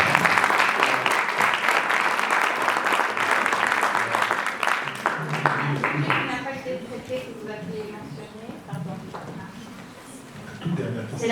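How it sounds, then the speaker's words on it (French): An audience at a family-law conference on Franco-Mexican families applauds warmly, a dense sustained clapping that gradually thins out and fades, with a voice surfacing near the end. "Je vous demande de les applaudir."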